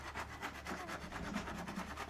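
A saw rasps back and forth through wood in quick, regular strokes, fairly quiet and close, with no talking.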